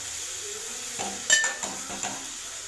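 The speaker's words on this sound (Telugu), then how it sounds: "ఉప్పు, కారం, పసుపు. ఇప్పుడు మంచిగా కలిపేసుకొని" Spoon stirring tomatoes seasoned with salt, chilli powder and turmeric in a pan: a low steady sizzle with a few close metallic scrapes and clinks spaced about half a second apart, no voices.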